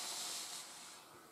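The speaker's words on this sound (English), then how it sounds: "That's some good steam, that is." A 1980s Morphy Richards TECHnique steam iron lets off a loud, steady hiss of steam, up close, that fades a little toward the end.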